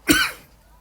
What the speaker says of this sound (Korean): 아이고 선생님이 계속 기침을 하네요.